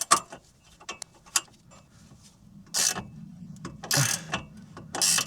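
Spanner ratcheting on a rusty Allen bolt of an anti-roll bar drop link on a Ford Transit Connect MK1 van, with sharp clicks followed by bursts of rapid ratchet clatter, close and loud.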